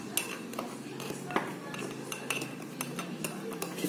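A spoon stirs and scrapes dalgona coffee in a bowl, producing repeated light metallic clinks and taps over a steady background rustle.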